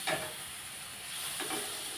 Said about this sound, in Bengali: মাছ সবজিটা মশলাটা হালকা হালকা ভাজা হয়ে আসছে